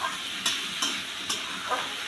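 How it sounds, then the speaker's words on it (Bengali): Vegetable curry frying in a pan for a Bengali fish-curry meal, a steady close sizzle with a few sharp scraping stirs spaced roughly every half second, no voices. "আমি আর একটু ভাজা ভাজা করে তারপর মশলাটা দেবো।"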